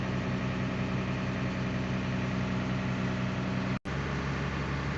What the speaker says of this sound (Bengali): আমি আপনাদেরকে বাসের ইঞ্জিনের সাউন্ডটা শোনাবো।